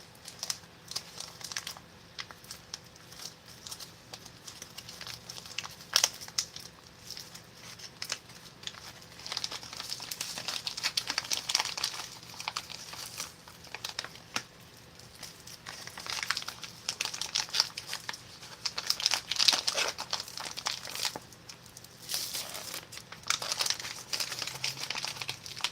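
Scissors cut into a plastic 2022 US MRE Menu 7 ration packet of beef strips in savory tomato sauce, and the wrapper crinkles. The snips and rustles are faint, close and intermittent, in irregular bursts.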